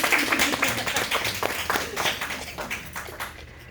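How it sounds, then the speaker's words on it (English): A small cosmetology class claps in a short, uneven burst of applause, individual hand claps audible nearby and tapering off over a few seconds. "Give yourself a round of applause."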